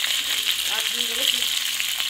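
Sliced okra sautéing with turmeric powder and salt in a pan, a soft continuous sizzle and crackle of frying close up, with faint stirring.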